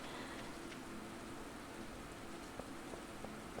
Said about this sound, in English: I like the sound of the rain in this game.